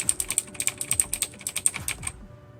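Loud, clicky typing on Greetech keyboard switches, a rapid steady run of crisp keystrokes that stops abruptly near the end.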